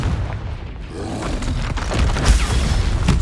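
A deep booming blast from the Confringo fire spell in the video game Hogwarts Legacy, rumbling low and loud, with crackling impact noise building toward a heavier hit near the end.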